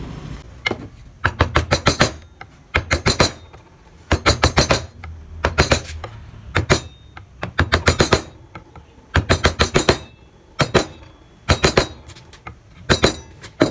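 A chisel is hammered while carving a barong motif, in bursts of rapid sharp metallic taps separated by short pauses, close and loud, with no talking.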